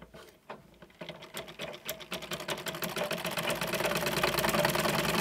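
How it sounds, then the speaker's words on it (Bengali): A sewing machine stitches after its thread tension has been tightened, starting with a few irregular clicks and then settling into a fast, steady mechanical chatter that grows louder and denser. "দেখেন এখন কিন্তু মেশিন যাচ্ছে ঠিক আছে এখন সেলাই হচ্ছে"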